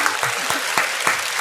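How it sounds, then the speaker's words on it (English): A crowd claps loudly and continuously for a champion at a spicy chip challenge event, forming a dense wash of applause with a few stronger claps standing out. "Give a big round of applause to Brad Brock."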